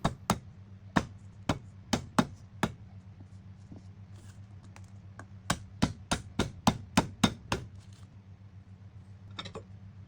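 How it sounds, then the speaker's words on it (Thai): Sharp knife strikes pounding sliced herbs on a board in uneven bursts, a few spaced hits then a quick run of rapid pounding, close and loud. "หั่นเสร็จแล้วก็ให้ทุบด้วยนะครับ"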